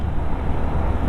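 Yamaha FZ25S motorcycle, modified, speeding up on the Eastern Expressway in Mumbai on a morning ride, giving a steady, loud, close engine and road roar with rushing wind throughout.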